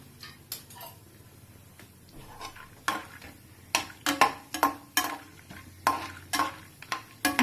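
Almonds fry lightly in ghee while a spoon stirs them in the pan, with sharp scraping clinks of metal on the pan over a soft sizzle and no talking.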